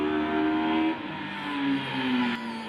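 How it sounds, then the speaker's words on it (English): A little Honda Civic race car revs its way round the back of a Scottish championship circuit, its engine note rising and falling steadily from a moderate distance, with no talking over it. "just listen to that little Honda Civic revving its way round the back of the circuit."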